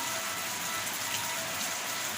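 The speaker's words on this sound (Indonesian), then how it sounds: "Hujan asli" Real rain falls steadily on a village in the countryside, a continuous even hiss with no breaks or drops standing out, fairly faint and with no talk over it.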